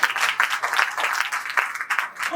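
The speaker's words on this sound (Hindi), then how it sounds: "और अच्छी जो लगी हो बात, ताली तो बजाइए" An audience at a Hindi poetry recital for World Hindi Diwas applauds in a sustained, dense patter of many hands that rises and dips slightly, heard clearly on its own.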